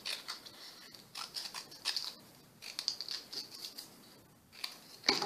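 Scissors cutting painted paper for a card frame, a series of close, crisp snipping bursts in irregular clusters with short pauses between, fairly quiet and alone.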